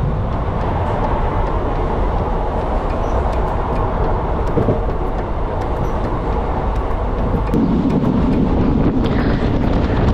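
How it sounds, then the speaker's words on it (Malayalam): A passenger train runs along the tracks in Kerala, making a steady, loud rumble and rattle with wind noise throughout. No one speaks. "ട്രെയിൻ ഇങ്ങനെ ഓടിക്കൊണ്ടിരിക്കുമ്പോൾ ഇവിടേക്ക് വന്ന് നോക്കണം, നല്ല രസമാണ് കാണാനായിട്ട്"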